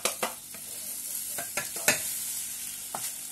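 Prawns, ham and surimi sauté for three-delicacies fried rice, a steady sizzle broken by several sharp scrapes and clacks of a utensil stirring the pan, close and moderately loud with no talking.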